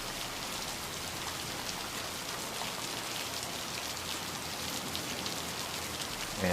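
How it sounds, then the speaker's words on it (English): Steady synthetic rain added in post-production, a dense even hiss of falling drops spread across the whole stretch with no voices, closing on a slight rise in level. "I believe that's digital rain, which you added in post."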